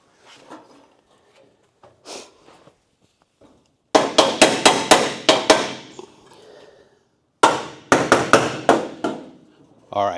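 Hammer striking a car's aftermarket quarter panel, two loud rapid rounds of metallic blows, each a fast series of ringing hits, after some quieter handling sounds and brief talk.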